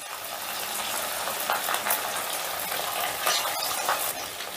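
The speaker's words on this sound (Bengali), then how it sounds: "তেলটা ভালো মতো গরম হয়ে গেলেই গ্যাসের আঁচটা মিডিয়ামে রেখে আমি মাছগুলো ভেজে নিচ্ছি।" Fish frying in hot oil over a medium gas flame for chilli fish, giving a steady, close broadband sizzle with small crackling flutters and no talking.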